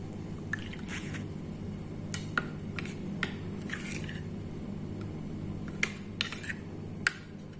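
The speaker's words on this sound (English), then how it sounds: "Now we will mix it well." Chilli and garlic powder chutney is stirred in a bowl, giving faint, scattered wet squishes and soft clicks in a quiet room.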